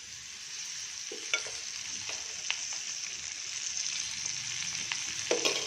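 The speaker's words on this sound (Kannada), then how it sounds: "ಒಂದೆರಡು ಸ್ಪೂನ್ ಎಣ್ಣೆ ಹಾಕ್ಕೊಂಡು ಚೆನ್ನಾಗಿ ಉಟ್ಕೊಳ್ತೀನಿ ಇದನ್ನು" Greens sizzling steadily in a couple of spoons of oil in a pan, with a broad frying hiss throughout and sharp spatula scrapes and stirring clicks at irregular intervals, close and alone without talk.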